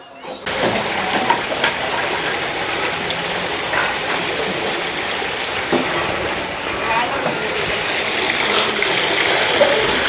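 Coloured chemical dye water from a Chennur silk fabric works in Andhra Pradesh rushes steadily along a channel, a broad continuous splashing wash. Voices talk over it.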